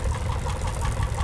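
A 12-horsepower Lanz Bulldog antique tractor runs close by, its engine giving a steady, thumping low-pitched chug for a brief moment.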